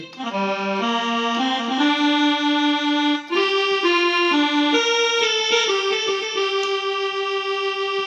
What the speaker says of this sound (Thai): แอคโคเดียนนะครับ